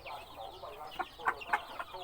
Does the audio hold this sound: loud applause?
no